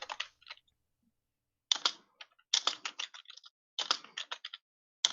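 A computer keyboard typed on at close range in quick, uneven bursts of clicking keystrokes, separated by short silent pauses, with no talking.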